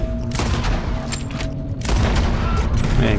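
Gunfire in the Red Dead Redemption 2 video game: loud sharp shots ring out, one near the start and another heavy burst toward the end, over an outdoor ambience.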